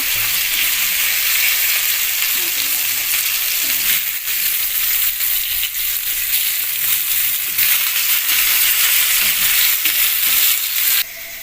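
Malvani bangda (mackerel) fish fries in a pan with a steady, loud, continuous sizzle that holds unbroken throughout, with no voices.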